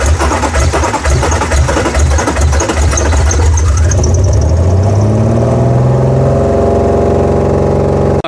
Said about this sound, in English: I got the car started